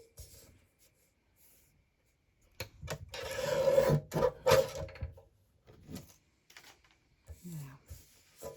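Paper being trimmed for a handmade paper bag clutch, heard as a couple of seconds of close rasping, scraping cuts in the middle, followed by scattered softer rustles and taps.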